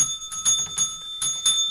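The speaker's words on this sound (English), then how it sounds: "Jingle bells there" Jingle bells shake in quick bursts of bright, shimmering ringing with sustained metallic tones, close and clear, with brief pauses between the shakes.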